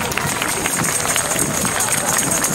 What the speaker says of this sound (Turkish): Güçlü bir alkış gönderelim.